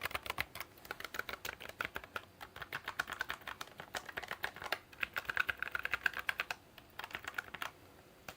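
Steady, rapid typing on a computer keyboard with quiet buttons, a dense run of soft key clicks with brief pauses near the end, close and fairly faint.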